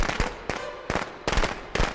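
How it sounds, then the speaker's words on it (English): Firecrackers go off in the Friday the 13th video game, five sharp loud crackling bursts spaced roughly half a second apart, each a rapid rattle of pops. "I forgot I had the firecrackers."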